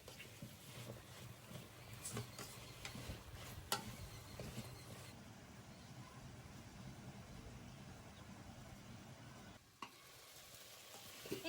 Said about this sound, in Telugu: బాగా ఫ్రై అవుతున్నాయి.